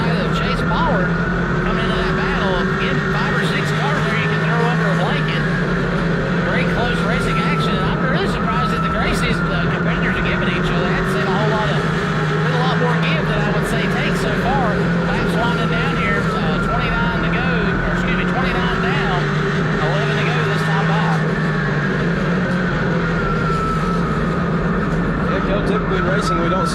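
Race cars roar around Hickory Motor Speedway in a close pack of five or six, engines droning continuously with rising and falling pitch as they pass, under steady commentary from a voice.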